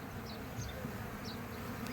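Honey bees hum steadily around hives at a bee farm in Hatta, Dubai, a faint continuous buzzing drone with a few closer passes, no one speaking.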